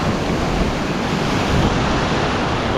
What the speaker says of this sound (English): Wait for a few of these waves to go past.